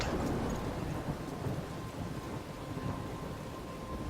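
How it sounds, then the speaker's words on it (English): Heavy rain pours without pause and thunder rolls in a forest during a storm in the Life is Strange video game, a dense hiss with low rumbling swells, loudest at the start. "it's pouring the rain, and we're laying in the middle of the forest"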